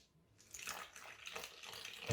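A small dribble of water poured into flour for fresh pasta dough, a soft, continuous splashy trickle lasting about two seconds, close and fairly quiet, with no talking.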